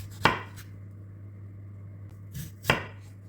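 Potatoes being cut with a knife, two distinct sharp chops on a board separated by a pause, close and clear over a low steady hum, with no talking.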